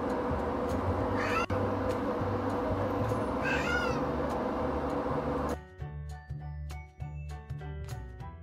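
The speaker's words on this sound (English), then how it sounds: "Look at my cat." A cat meows twice, short rising calls a few seconds apart, close by and fairly soft against a steady background hum that drops away partway through.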